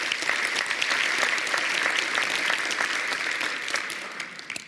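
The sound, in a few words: audience applause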